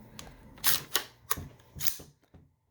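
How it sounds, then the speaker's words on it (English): An AR-15 bolt is locked to the rear by pulling the charging handle back while the bolt latch is held down. A few crisp metallic clicks and clacks come close and fairly quiet, followed by silence. "We have now locked the bolt to the rear with the downward pressure on the bolt latch and rearward pressure pulling the charging handle all the way to the rear"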